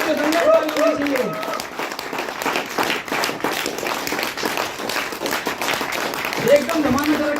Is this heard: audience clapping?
yes